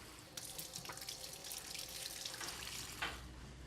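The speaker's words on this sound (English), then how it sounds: "We're gonna fill this with water just so that it barely covers the shiitake" Water pours steadily into a pot holding shiitake mushrooms and leeks, a soft continuous splashing stream with a few brief louder gushes, heard alone and fairly quiet.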